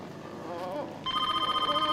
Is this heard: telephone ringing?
yes